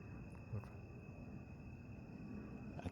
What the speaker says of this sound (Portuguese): Olha o barulho dos sapos.